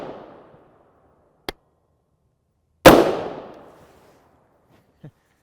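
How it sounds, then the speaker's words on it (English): A single loud, sharp rifle shot of 5.56x45mm M193 ammunition through a muzzle brake, with a decaying echo, between a faint earlier click and a small later knock in otherwise quiet surroundings. "The blast from our muzzle brake popped a hole in the bag."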